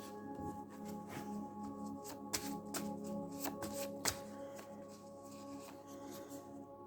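Tarot cards being shuffled and drawn for a reading, with soft papery riffles and several sharp card snaps close by in a quiet room.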